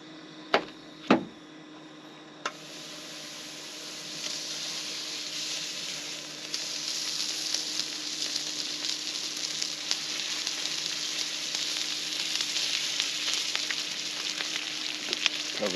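Butter sizzling with asparagus in a pan over a camp stove outdoors, a steady loud frying hiss that builds after a couple of sharp clanks at the start, with no talking.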